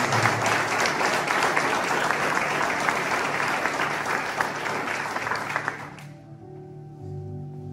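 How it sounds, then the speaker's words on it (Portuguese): A congregation applauding in church during a Mother's Day service, dense continuous clapping for about six seconds that stops abruptly, leaving a low steady hum. "Nós podemos aplaudir ao Senhor por ele é."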